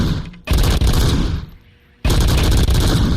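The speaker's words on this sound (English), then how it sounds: "Oh, it's a machine gun." Machine gun fire in the video game RoboCop Rogue City: two loud, sustained bursts of rapid automatic shots, each about a second and a half long, separated by a brief fading lull.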